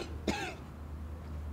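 A single short cough, fairly close and moderately loud, over a low background hum, followed by quiet.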